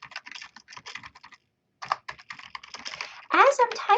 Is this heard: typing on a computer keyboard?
yes